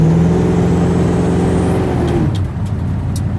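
A car engine fitted with Holley Sniper EFI and a Fitek fuel system is revved: a loud, close, steady roar that holds, then drops off sharply as the throttle is released, leaving a rougher idle with a few clicks.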